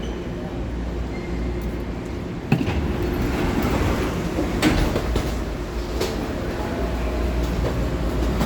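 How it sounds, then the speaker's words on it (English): An airport train rumbles steadily nearby, with clicks, clunks and a sharp metallic bang as it pulls in; a faint voice is heard in the background. "The train is arriving."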